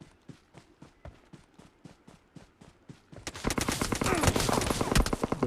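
In the video game BGMI, evenly spaced single gunshots repeat steadily, then give way to dense, loud rapid automatic fire that continues to the end.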